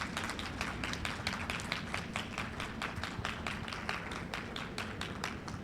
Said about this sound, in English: let's give a round of applause to all the enforcers and the venue staff